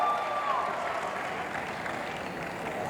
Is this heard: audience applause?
yes